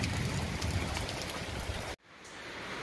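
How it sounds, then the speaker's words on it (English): Steady rain falls outside, a dense, even hiss of drops on surfaces that holds for about two seconds, cuts out sharply, then returns more softly. "It's raining outside."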